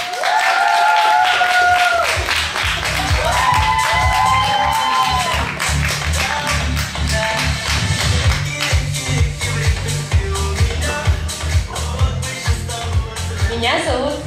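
An audience applauds to welcome the third couple at a children's camp pageant: a crowd claps over music with held tones, the clapping growing into a steady rhythmic beat toward the end, with a voice speaking at times.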